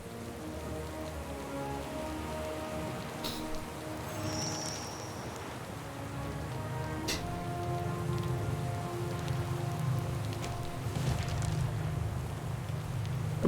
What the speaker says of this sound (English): Coming storm. The arriving storm.